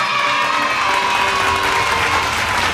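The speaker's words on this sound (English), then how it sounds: "let's get a round of applause for these guys" A studio audience breaks into loud, continuous applause and cheering, with dense clapping and whoops filling the whole moment without a break.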